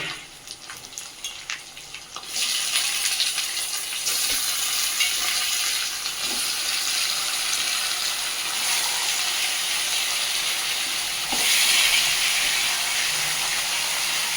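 Washed chicken pieces hit a hot pan for a Telugu-style chicken curry with bagara, setting off a sudden loud, steady sizzle that holds strong with faint stirring scrapes and no talking.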